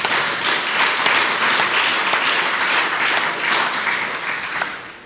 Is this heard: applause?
yes